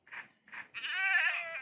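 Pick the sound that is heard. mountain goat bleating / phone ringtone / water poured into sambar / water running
mountain goat bleating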